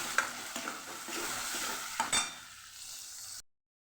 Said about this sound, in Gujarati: ધીમા ગેસ ઉપર આપણે આ પેસ્ટને સાતળીએ છીએ